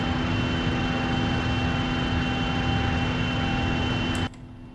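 Boeing 777 engines in X-Plane 11 drone steadily during the climb after takeoff from Hong Kong, a loud constant jet roar with a fixed tonal hum that drops abruptly in level near the end.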